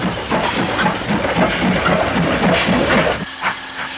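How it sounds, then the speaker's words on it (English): A steam locomotive hauling a freight train near Swindon Quarry in Britain, a loud continuous rumble and hiss with rhythmic chuffing beats that drops suddenly to a quieter hum near the end. "trains to Swindon Quarry were among the last regular steam-operated freights in Britain"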